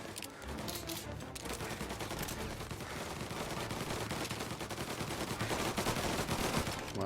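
Gunfire in the video game Mafia Definitive Edition rattles in a dense, continuous burst of rapid shots, fairly faint and building slightly in intensity over several seconds.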